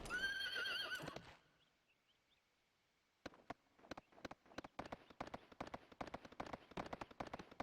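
Horses in the Suikoden 3 video game: a loud whinny opens, then after a quiet pause a quick rhythmic clatter of galloping hooves builds and continues to the end.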